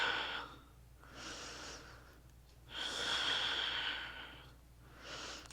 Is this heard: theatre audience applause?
no